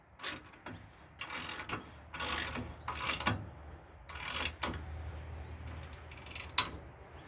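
A ratchet tightens bolts on the rear axle bar of a 1998 Dodge Dakota, sounding as a series of quick clicking bursts at close range with short pauses between strokes.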